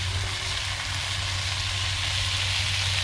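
Continuous low sizzle of sweet potato frying in a pan, with a steady hum underneath and no voices.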